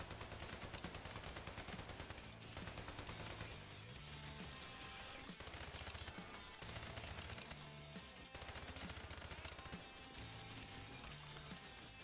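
Rapid machine gun fire in the video game Hypercharge: Unboxed, dense continuous bursts with brief gaps, mixed with mechanical clatter and game effects, very faint overall.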